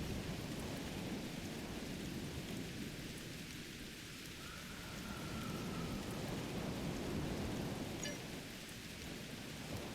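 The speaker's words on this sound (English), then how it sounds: "rain on Ryza. I guess they haven't installed the weather control systems yet." Thunderstorm rain in the video game Star Trek Online pours steadily, a dense hiss of rainfall with low rumbling thunder rolling underneath throughout.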